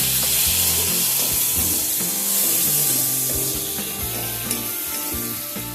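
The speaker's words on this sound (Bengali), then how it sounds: "পেঁয়াজটাকে হালকা করে একটু ভেজে নেব।" Sliced onion fries in a pan, giving a continuous bright sizzle and hiss that stays loud and even throughout, with a steady melodic backing running underneath.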